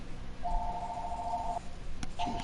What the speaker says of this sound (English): There's a fucking phone out the window.